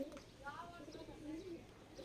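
A wild wood pigeon gives a faint, brief coo under a person talking nearby, with quiet ambient background.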